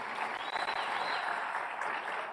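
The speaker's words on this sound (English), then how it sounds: "So I want to give another round of applause to our guests." Audience at a conference forum giving guests a round of applause, steady, fairly soft clapping heard from a distance in a large room, with no talking.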